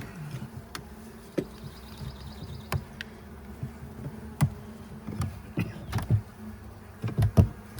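Honeybees buzzing during a spring hive inspection, a soft continuous hum close by with scattered knocks and thumps from handling the hive frames.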